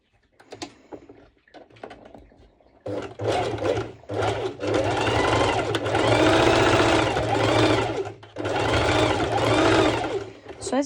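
Sewing machine top stitching a strap on a ruffled jumpsuit, running in long steady bursts going back and forth over the seam, loud and close, with a few short starts before the main run.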